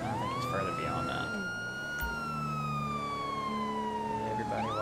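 A police car siren in GTA 5 with the LSPDFR mod, a loud wailing tone sweeping up and slowly down over steady engine and road noise.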